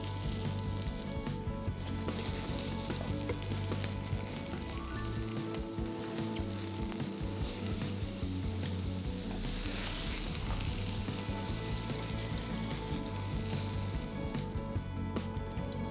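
Gressingham duck breasts sear skin-side down in a hot pan, rendering fat with a steady, loud sizzle and crackle that runs unbroken throughout, with occasional stirring clinks.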